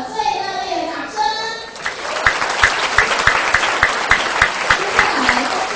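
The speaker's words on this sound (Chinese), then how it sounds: "请给自己一个最热烈的掌声" Junior high graduates at their graduation ceremony give themselves a hearty round of applause; a voice speaks first, then dense crowd clapping takes over and holds steady.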